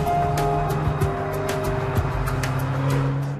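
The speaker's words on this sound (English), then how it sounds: "the new Porsche 911 Turbo S is due to hit the road at the end of the year" A Porsche 911 Turbo S driving, its engine a steady, loud drone with shifting tonal pitch and light clicks over it, close and continuous for a few seconds with no talking.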